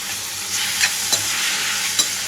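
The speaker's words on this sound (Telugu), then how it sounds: "ఇప్పుడున్న ఆయిల్లోనే టమాటా కూడా వేసేసుకుంటున్నాను. టమాటాతో పాటు పుదీనా కూడా." Chopped tomatoes and mint frying in hot oil for tomato chutney, a loud steady hiss with a few small crackles and pops, close up and uninterrupted by voices.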